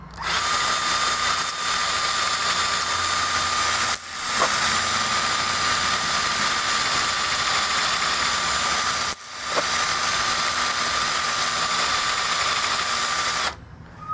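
A CTS case trimmer runs at high speed cutting brass cases, a loud steady high-pitched motor whine with a cutting buzz, broken by three short drops between cases, with no talk.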